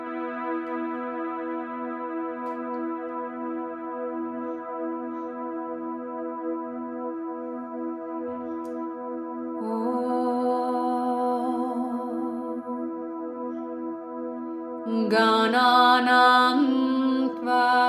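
Ancient shruti mantra chanting in Sanskrit: steady, droning harmonic voices recite continuously for the whole stretch, with the chant thickening and growing louder midway and again near the end as more voices or layers join.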